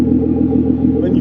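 A steady, deep Porsche exhaust rumble drones at close range at a car show, an even idling burble with no talking.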